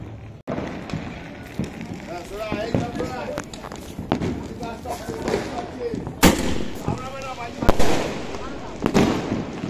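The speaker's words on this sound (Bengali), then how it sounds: "ও চারিদিকে খালি বাজি ফাটছে দেখো, বাপ রে।" Fireworks and firecrackers burst all around on New Year's Eve at midnight, sharp cracks and booms scattered near and far at an irregular pace, while people talk and call out underneath.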